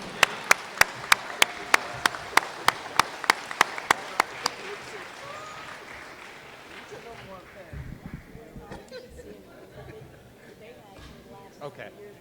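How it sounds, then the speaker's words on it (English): Applause from the audience at a University at Albany event welcoming a new women's basketball head coach. Sharp rhythmic claps come first, then they fade into a diffuse crowd murmur with scattered voices. "One more round of applause for Coach Mack."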